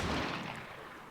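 A single gunshot from another player in the video game Vigor, a loud sharp blast that rolls off into a fading echo.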